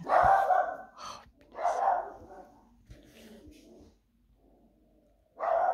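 A pet dog indoors gives low grumbling growls and short vocal bursts in several separate spells with quiet gaps between, close and moderately loud.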